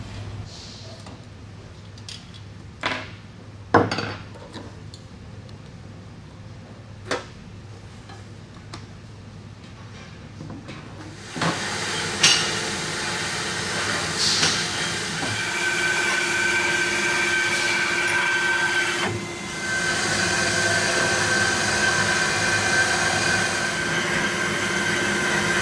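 A heat press heater element is cut apart. Quiet clicks and handling noises come first, then a loud, continuous rasping cutting noise carries on through the second half with slight changes.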